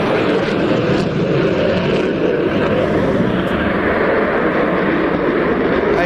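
A canard delta-wing jet rolling through barrel rolls at an air show, a loud, steady, broadband roar that holds unbroken for the whole stretch without voices.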